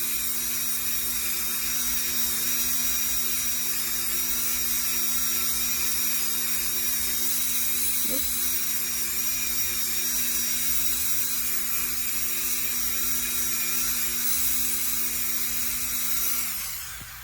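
A rotary tool sanding a polymer clay pendant, a steady high-pitched whine that holds unbroken for a long stretch before winding down at the end.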